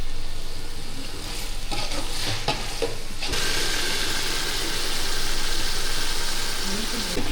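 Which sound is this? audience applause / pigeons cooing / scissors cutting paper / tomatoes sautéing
tomatoes sautéing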